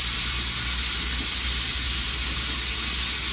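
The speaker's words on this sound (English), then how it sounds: "actually steam oil lubricator that lubricates the high pressure air cylinder, and the low pressure steam cylinder" Steam hissing steadily from the oil lubricator on a steam locomotive in a railroad engine shed, a loud, continuous, broadband rush with a low rumble beneath and no pauses.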